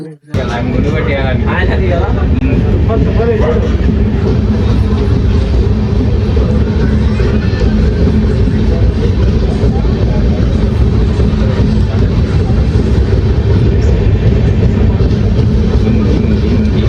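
A passenger train heading toward Arunachalam pulls away and runs, its steady low rumble and rattling filling the carriage loudly and continuously, with people talking over the noise.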